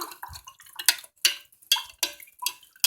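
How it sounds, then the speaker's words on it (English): A spoon stirs chicken marinade in a bowl, giving a series of quiet, close clicks and wet scrapes, about six distinct taps spaced irregularly over a few seconds, with no talking. "Gonna mix our marinade together."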